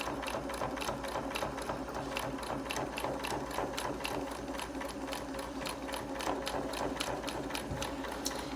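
Sewing machine runs steadily while stitching pleats into a fabric mask with ribbon ties, a fast continuous mechanical whir with rapid needle clicks, close and alone throughout.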